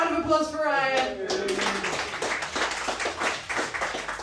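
Audience clapping for comedian Ryan at a comedy night, a few seconds of scattered handclaps under a voice at the start, then thinning out.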